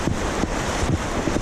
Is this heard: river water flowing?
yes